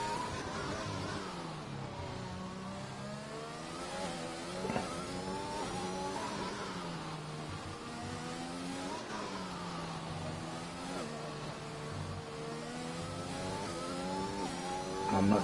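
Onboard F1 car engine during a hot lap at Azerbaijan in an F1 racing game, a steady high-revving whine that climbs and drops through gear changes, continuous and fairly faint.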